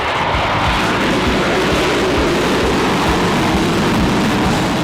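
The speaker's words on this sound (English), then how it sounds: "Shockwave went beyond all of that, becoming a legend powered by jet turbines." Jet-turbine-powered Shockwave truck roaring steadily at close range, a loud, continuous broadband engine blast that holds constant throughout, with no talk.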